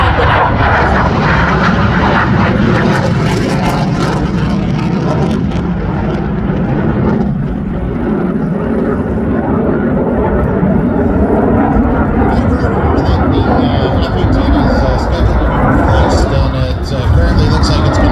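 A fixed-wing airplane roars past on a photo pass at the Barrie air show with its wings tilted up, a loud, steady engine drone filling the whole stretch while an announcer talks over it.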